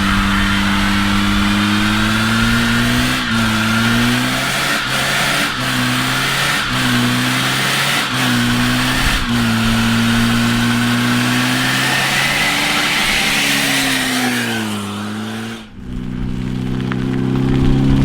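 A car's engine holds a sustained high rev for a burnout, its drone wavering with brief dips and surges, then dropping sharply before picking back up near the end.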